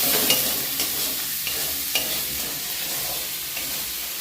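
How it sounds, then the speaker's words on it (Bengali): Mustard masala for prawns frying in oil, with a steady close sizzle and a few soft scrapes of a stirring spoon, alone without any talk. "এটা আমি ভালো করে কষে নেবো"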